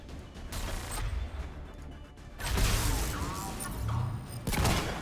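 Turret gunfire in the game Mass Effect 3, dense rattling bursts with heavy thuds and crashes, loud and close, coming in two surges with a brief lull between.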